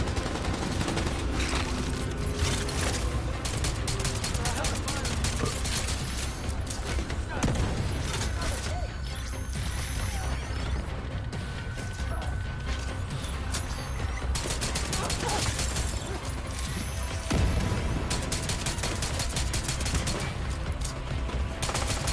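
Dense, nonstop gunfire in The Division 2 from a pistol shooting down enemies during a ballistic shield tank build: rapid overlapping shots, booms and mechanical clacks filling the whole stretch, with someone talking over the fighting.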